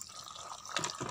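Water is poured into a cement mix used to make artificial rocks from cardboard and waste paper for aquascapes and bonsai: a brief close splash and trickle, with a slightly fuller gush near the end.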